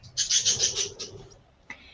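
A small bird clinging to a person's thumb gives a quick run of bright, high chirps up close, then falls quiet before one last short call.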